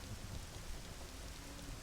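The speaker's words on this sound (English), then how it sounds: "it's raining in the village" Rain falling on the village in Ocarina of Time, a soft, steady hiss of rainfall with faint low rumbles, continuous and without voices.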